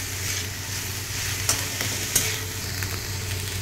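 Semolina frying in ghee for a savoury suji dish, a steady soft sizzle with two sharp scrape-like clicks from stirring, close and alone without talk.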